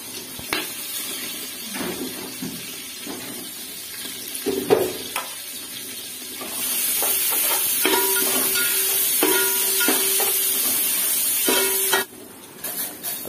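Onions fry in a pan for chicken biryani, a steady sizzle that grows louder and more continuous partway through, with occasional stirring scrapes and clinks of utensil against the pan.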